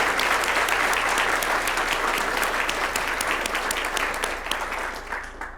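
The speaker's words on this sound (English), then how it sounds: "Let me give you another round of applause" Steady, dense applause fills a hall at the 2024 Australian Christian Teen Writer Award ceremony, sustained throughout with a slight fade near the end.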